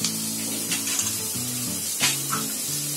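Chopped onion sizzling in butter in a pan, a close hissing fry with short bursts of spattering over a faint background tone.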